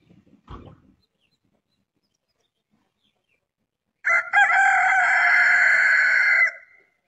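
A rooster crows once, loud and close, a sustained call lasting over two seconds after a brief thump and a quiet pause, with no talk over it.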